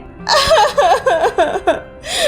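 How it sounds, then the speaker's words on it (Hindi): A girl sobs nearby in several halting, wavering bursts, her voice rising and falling between short breaths. "तभी बाहर से एक लड़की के रोने की आवाज आती है"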